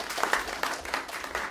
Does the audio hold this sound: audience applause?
yes